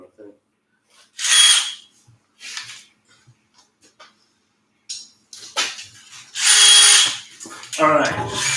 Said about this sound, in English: So we're powering this thing with a drill, right?